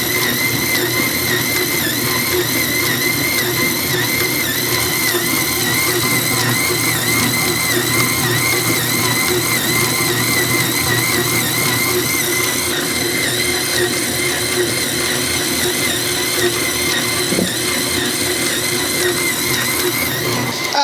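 A Pampered Chef stand mixer running at speed 2: a loud, steady mechanical whir with a constant motor drone and faint rhythmic gear rattle throughout, no voices.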